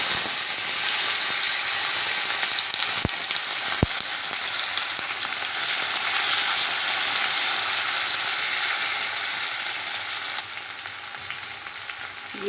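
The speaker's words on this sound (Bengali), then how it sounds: "এবার আমি এতে দিয়ে দেব টমেটো কুচি" Chopped tomato hits hot oil seasoned with cinnamon and whole cumin in a village kitchen, producing a loud, continuous close sizzle. Two sharp knocks sound early on, and the frying hiss eases slightly near the end.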